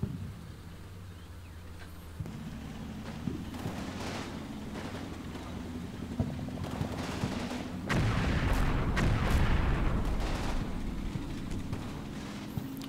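Mortar fire in a military training-campaign video game: repeated heavy booming shots and rumbling blasts, growing louder and denser in the second half, over a low steady engine-like drone.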